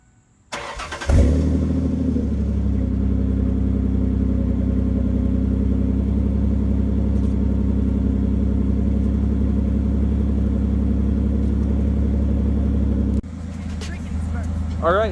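A truck with a catalytic converter just refitted, after a power-steering fluid check, starts up and settles into a deep, steady V8-like low idle that stays loud and even, with a brief shift in tone near the end.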